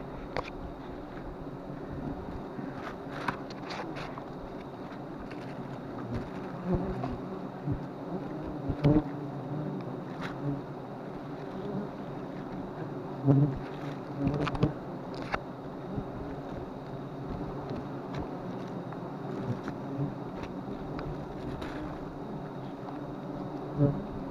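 Swarm of bees droning steadily around a large tree during a bee-catching effort outdoors, a dense continuous buzz with occasional louder passes near the microphone and light wind.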